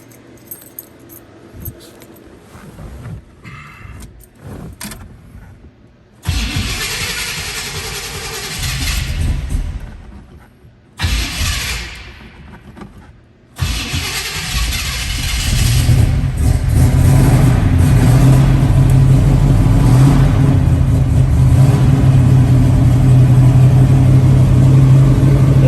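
Keys jangle in the square ignition of a 1972 Chevrolet Nova before the engine cranks, catches and revs in loud bursts, then settles into a strong, steady idle close by.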